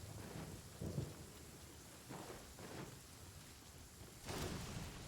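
A video game thunderstorm with steady rain hissing throughout and several rolling thunder rumbles swelling and fading, the last one loudest.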